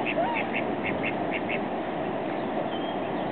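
Ducks being fed, a rapid series of about eight nasal quacks close by in the first half, over steady outdoor background noise with a faint voice nearby.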